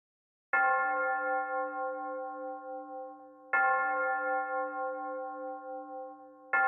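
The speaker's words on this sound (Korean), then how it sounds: "그때 힘찬 교회 종소리가 들려왔어요." Church bells ring out boldly on Christmas morning, three separate clear strikes spaced a few seconds apart, each ringing and slowly decaying, with nothing else underneath.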